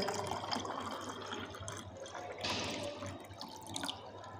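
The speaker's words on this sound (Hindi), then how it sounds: "हम थोड़ा सा इसको पानी भरते हैं" Water poured into an empty beaker, a continuous splashing fill with a steady hum beneath and a brighter surge partway through, close and moderately loud.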